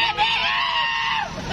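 A crowd at a political rally in Rizal for Bongbong Marcos lets out one loud, sustained cheer that swells and trails off after about a second.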